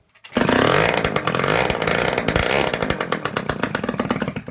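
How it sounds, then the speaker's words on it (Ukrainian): A scooter engine with its exhaust removed fires up and runs loud and raspy, with rapid popping pulses and uneven revving, close to the listener. "Завівся він хіба після того, як я йому зняв вихлопну."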